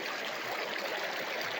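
Water rushes steadily into a sluice box with a flared top end, a constant close, bright stream of flow with no pauses and no voices.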